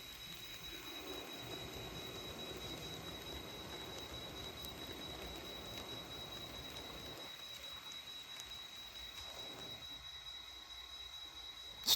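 A westbound Santa Fe passenger train eases to a stop at Stephenville Passenger Depot, giving a steady rolling rumble with a sustained high wheel squeal throughout, moderately distant and without voices.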